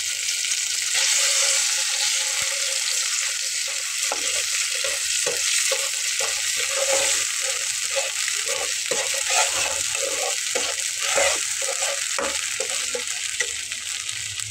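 Spice paste sizzling and frying steadily in hot oil with black cumin, with intermittent stirring scrapes over a constant bright hiss.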